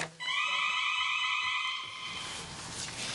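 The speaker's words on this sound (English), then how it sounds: "That's our alarm." A school alarm for an earthquake drill blares during a school board meeting, a loud, steady electronic tone with a rough buzzing edge that holds for about two seconds, then carries on more faintly.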